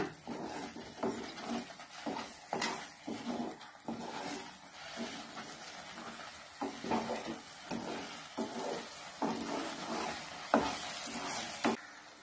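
Tomato pickle is stirred in sizzling oil, with soft frying crackle under repeated scraping stir strokes at an irregular rhythm, fairly faint and close with no voices.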